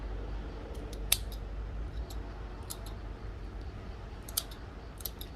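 Scissors cut orchid stems to length while potting a Brassavola nodosa × Cattleya hybrid, giving a handful of quiet, sharp snips spaced irregularly over a soft background.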